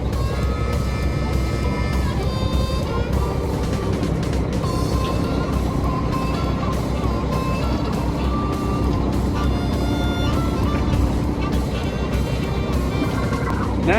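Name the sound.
auger moving feed off the belt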